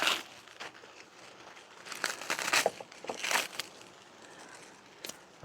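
A stack of brassica green leaves such as collards torn apart by hand, producing close crinkling, tearing rips in irregular bursts, loudest in the middle.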